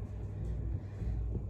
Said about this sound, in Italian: Mamma mia, che maltempo, ragazze. Fanno dei tuoni assurdi.